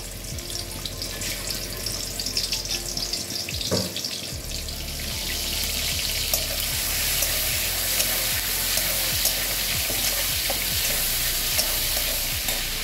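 Salted, turmeric-coated prawns fry in refined oil in a wok, giving a continuous close hiss that grows brighter and louder partway through, with occasional stirring scrapes and no voices.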